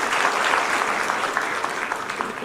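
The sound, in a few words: audience applause for a guest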